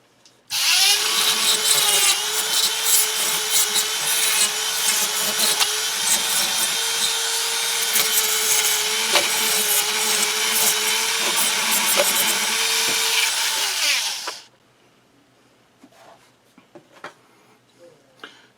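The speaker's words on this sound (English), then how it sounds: "So I'm going to clean that down with the Dremel." A Dremel rotary tool grinds burrs off lithium-ion battery tabs, a loud steady high whine running for about fourteen seconds before cutting off, followed by faint quiet handling noises.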